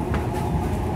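A SEPTA Market-Frankford Line subway train running, heard from inside as a loud, steady low rumble of wheels and motors.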